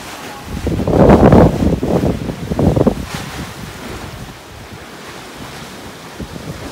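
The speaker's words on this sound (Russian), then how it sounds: "здесь очень сильный ветер" Strong gusts rush and rumble across the microphone in a town near Istanbul, Turkey, swelling loudly at first and then easing into a steadier blowing.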